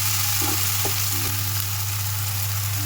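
Water hits a pan of frying ginger and cumin for a sour eggplant curry, producing a steady, even hiss of sizzling with a few faint clinks and no speech.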